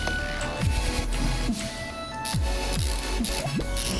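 A car part gets bolted back on in Car Mechanic Simulator 2015, a series of quick, repeated ratcheting whirs and clicks in short bursts, each with a sweeping mechanical pitch.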